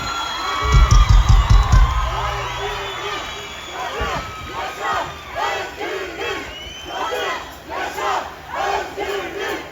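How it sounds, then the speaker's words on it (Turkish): A crowd at a night-time holiday celebration for the Esenyurt mayor, Ahmet Özer, breaks into loud cheering and shouting with a burst of heavy clapping early on, then rhythmic chanting waves, all close and dense. "Ben başkanımız için kocaman bir alkış istiyorum."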